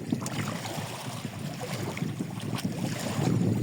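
Wind blows steadily across open water that has drained low, a continuous broadband rushing roar with buffeting gusts that build toward the end, and no voices.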